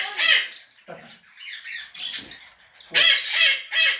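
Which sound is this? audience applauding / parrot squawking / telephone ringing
parrot squawking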